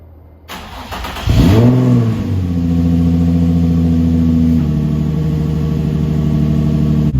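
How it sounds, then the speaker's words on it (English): A nearly stock Nissan 350Z with a test pipe cranks briefly on a cold start, catches and roars to life, then settles into a loud, steady idle up close, with no talking. "So this is gonna be a cold start and then we'll get a few revs in a bit."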